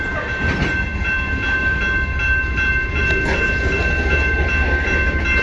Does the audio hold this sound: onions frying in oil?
no